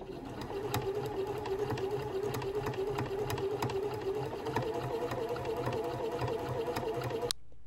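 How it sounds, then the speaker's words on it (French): A sewing machine stitches a seam in the fold of bias binding on a beginner's tote bag, a steady close mechanical whirr with a fast regular needle rhythm running for about seven seconds before stopping abruptly. "nous allons venir réaliser une couture dans la pliure de notre biais"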